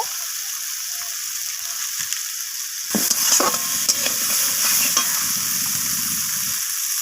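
Spices sautéing with onion and tomato in a pan, with a quiet start that opens into a steady, louder sizzle and stirring scrapes for about the last four seconds.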